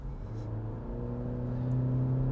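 2020 Honda Civic Sport Touring hatchback with a CVT, driven with paddle-shifted simulated gears, accelerating from inside the cabin: a steady engine drone and road hum slowly climb in pitch and volume, with no talking.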